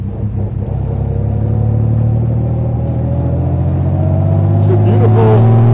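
A 1935 Triumph Gloria Open Tourer's engine drones steadily while driving on a greasy road, a deep, full, low rumble that builds slightly as it pulls, close and loud with no one talking.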